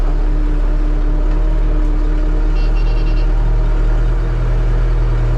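Tractor with a crop sprayer backing up across a wheat field: steady loud engine drone with strong low hum and tonal whine, continuous and close, with no speech.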